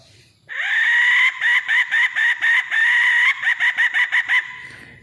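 A brass wild junglefowl hen call whistle imitates a hen: one long squawking call, then a rapid series of short clucking bursts, loud and close.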